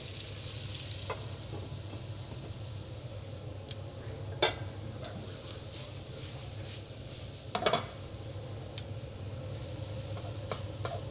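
Pork chops frying in a pan alongside leeks, a steady soft sizzle with scattered faint ticks and pops throughout, no talking.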